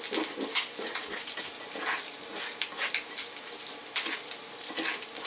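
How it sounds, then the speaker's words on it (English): Food sizzles and spits steadily in a cast iron skillet while being stirred for a chicken carbonara meatloaf, a close, continuous crackle with scraping from the stirring and no voices. "So I'm just going to stir everything around, get everything nice and crispy"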